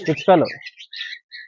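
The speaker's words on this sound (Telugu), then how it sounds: "పిచ్చుకలు" Sparrows at Shilparamam in Kadapa give a quick run of high, thin chirps and tweets just after a brief burst of human voice.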